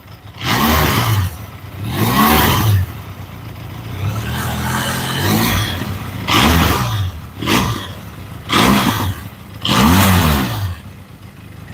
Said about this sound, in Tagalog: Grabe, lakas Kasi to malakas yung makina nito